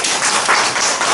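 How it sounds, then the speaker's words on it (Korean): A church congregation applauds during a Sunday service, a brief burst of dense, loud clapping from many hands filling the room. "주님께 영광의 박수 올리겠습니다"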